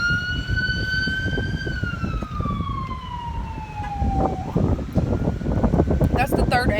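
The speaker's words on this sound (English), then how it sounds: "That's the third ambulance so far that's passed by" An ambulance siren passes by outside a Bojangles restaurant, its wailing tone sliding down in pitch as it moves off, loud over a steady background of chatter and noise.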